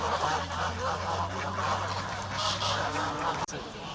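Italian geese in Legnano, Italy, honk repeatedly against a noisy outdoor background, their calls overlapping in a steady chorus, with a faint voice somewhere in the mix.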